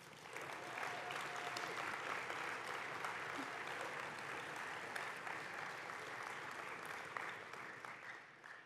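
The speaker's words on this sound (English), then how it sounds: "Let's give them one last round of applause." A large audience at the 2019 IPC Sport and Media Awards ceremony claps continuously, a thick, even wash of applause that holds steady throughout and fades slightly at the very end, with no talking over it.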